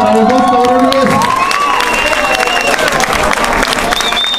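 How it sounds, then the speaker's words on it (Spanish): An audience at a rap battle bursts into loud, dense applause and cheering, with voices and whistles rising briefly at the start over a steady wash of clapping. "un aplauso para los dos cabrones"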